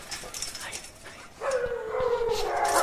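Siberian Husky sled dogs at a dog-sledding outfit in New Hampshire howl and yip together, a sustained chorus that rises and grows louder midway through and continues steadily, with some faint background activity.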